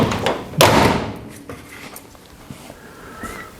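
A car door on a 1959 Renault shuts with one solid, close thump early on, followed by a few lighter knocks and taps that fade into quiet.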